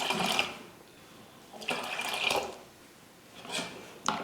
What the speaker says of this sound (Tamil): தண்ணி சேர்த்துட்டு இப்படி கலந்து பாருங்கள்.